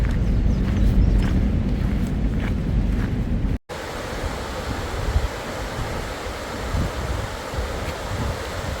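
A river runs beside the old C&O Canal towpath near Harper's Ferry, a steady rushing wash of water with some wind buffeting, continuous and fairly loud, with a brief dropout partway through.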